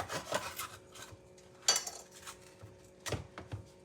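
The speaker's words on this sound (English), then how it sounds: "we're gonna rub this all up, get everything in here, really get in there, really season this up." Chicken pieces being rubbed by hand with cornstarch and seasoning in a bowl, a soft close rustling and rubbing with a few louder scrunches, no talking.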